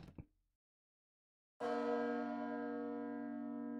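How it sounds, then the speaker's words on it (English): A large church-style bell in the Small Saga video game, struck once after a brief quiet and then ringing loud and long with a rich, slowly fading hum. "The bell."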